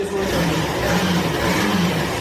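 A Hero Xtreme motorcycle engine runs close by, a smooth, steady mid-pitched hum that holds evenly throughout with no voices over it.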